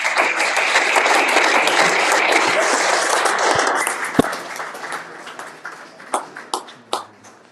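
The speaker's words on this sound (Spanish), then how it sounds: "Le brindamos un fuerte aplauso." An audience applauds after a colloquium talk on the Franciscan and Dominican evangelization of Mexico, dense clapping holding strong for several seconds before thinning into a few scattered, separate claps at the end.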